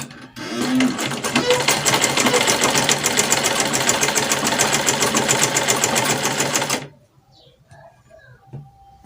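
A sewing machine stitches a simple dress, running loud and steady with a fast even rhythm for about seven seconds before stopping, followed by faint handling noises.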